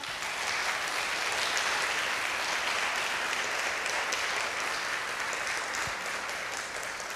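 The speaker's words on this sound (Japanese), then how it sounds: "ご来場の皆様にも温かい拍手をたくさん頂戴いたしました。" Sustained, dense applause from a concert audience at the close of a Love and Peace Concert fills the room steadily and evenly, loud and unbroken from start to finish.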